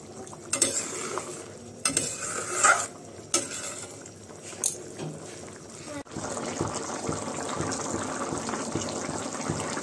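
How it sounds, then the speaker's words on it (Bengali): Curry gravy boils in a pot after garam masala is added, giving irregular wet bubbling and stirring knocks at first, then a denser, continuous close bubbling roar. "ঝোলের মধ্যে এরকম শব্দ হলে বলে কি ঘুঙ্গুরে ডাক দিছে"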